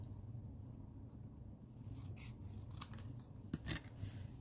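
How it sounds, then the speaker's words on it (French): Scissors snip paper pieces at an angle for Stampin' Up! design-paper cards, giving a run of close rubbing cuts with a few sharper snips toward the end. "Donc, elle coupe en biseau"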